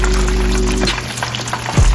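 Fish fillets for a homemade Filet-O-Fish fry in a pan with a steady, close sizzle, with a low hum underneath and a brief clatter near the end.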